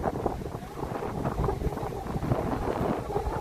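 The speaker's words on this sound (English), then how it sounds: "I hope the wind's not too bad" Steady outdoor wind buffets and rumbles across a Samsung Galaxy S25 Ultra phone's microphone, a loud continuous roar with no clear speech.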